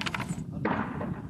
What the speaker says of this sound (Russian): С чего это вот только что мы слышали взрывы?